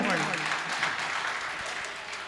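Audience applause at an All India Mushaira poetry gathering in Jalalabad, a dense, steady wash of clapping that holds loud across the whole moment, with a voice briefly audible beneath it at the start.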